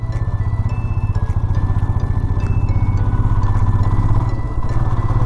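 A motorcycle engine throbs steadily as the bike turns on a hill road near Ghum in Darjeeling, a loud, close, evenly pulsing rumble with no talk over it.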